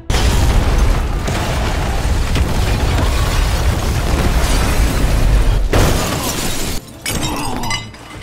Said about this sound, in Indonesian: terjadi sebuah ledakan.